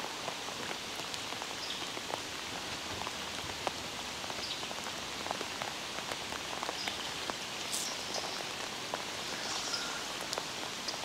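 Steady rain patters on surfaces, a dense hiss of drops with no other sounds, constant and close.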